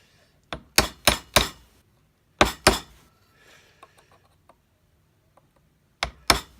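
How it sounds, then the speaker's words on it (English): Sharp hammer blows driving a nail flush into wood, a quick run of four, then two more, later a final pair, with faint taps between, close and loud. "So I'll hammer that flush"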